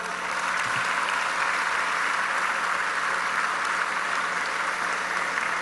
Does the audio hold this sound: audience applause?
yes